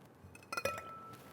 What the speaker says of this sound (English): We're gonna drop in an ice cube.